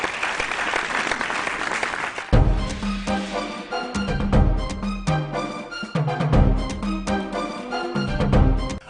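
A studio audience at a high school quiz show claps steadily and fairly close, while loud music with a pounding beat rises over the applause partway through.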